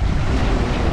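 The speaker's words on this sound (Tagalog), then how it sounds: "Biglang lakas na po yung dagat dito, parang semi-bagyo na." Rough sea waves in near-storm weather on open water, with loud continuous surf and wind roaring close to the microphone and no pause for the whole moment.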